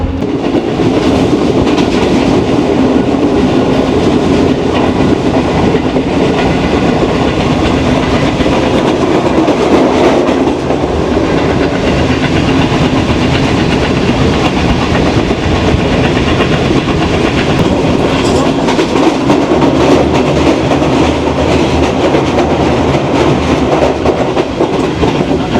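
A passenger train, the 5UP, runs from Rohri toward Pindi. Its loud, constant rolling rumble and rhythmic wheel clatter are heard from on board, with no talking.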